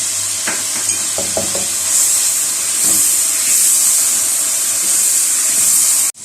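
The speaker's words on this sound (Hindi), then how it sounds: "ये हमारा तड़का तैयार हो रहा है और तकरीबन हो चुका है।" A tadka of spices in hot oil for mash dal hisses and steams steadily. A few quick stirring clinks come near the start, and the sound cuts off abruptly at the end.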